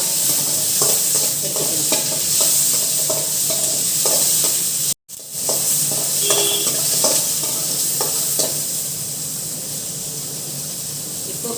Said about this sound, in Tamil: இப்போ கீரை வதக்கிட்டு